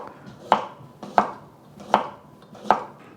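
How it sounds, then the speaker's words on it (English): A knife chops half an English cucumber into julienne strips on a board, four sharp, evenly spaced thuds ringing out close and alone. "I'm going to julienne the cucumber."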